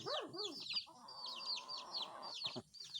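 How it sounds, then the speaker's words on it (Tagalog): Chickens cluck and chatter in a busy flock nearby, overlapping calls rising and falling continuously with a faint background hum. "Dami ng alagang manok."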